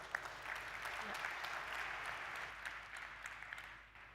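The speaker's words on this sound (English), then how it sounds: "Give her applause." Audience applause at a large tech conference keynote, a steady wash of clapping that holds for several seconds, then thins and fades toward the end, heard quietly and at a distance over a low hum.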